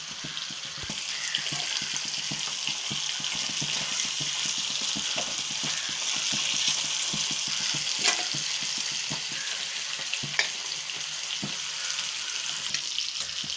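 Trevally fish roasting in a pan, a steady close sizzle and crackle of hot oil running throughout with occasional small pops and scraping stirs, no talking.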